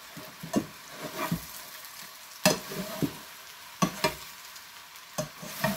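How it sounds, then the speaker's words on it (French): Eggplant frying in oil in a pan while being stirred, with a soft steady sizzle beneath repeated scraping strokes of a utensil, close and moderate in level, with no speech. "vous remuez pour éviter tout simplement que ça crame."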